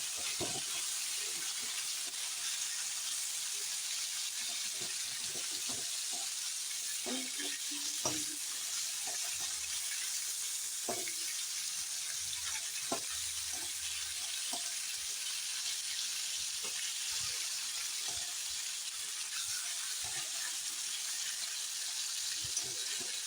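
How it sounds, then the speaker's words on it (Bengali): The oily head of a 10 kg katla fish sizzles steadily in hot oil after being flipped, a loud, unbroken frying hiss with occasional small pops and crackles. "উল্টিয়ে দিলাম, আরেকবার ভাজা হোক।"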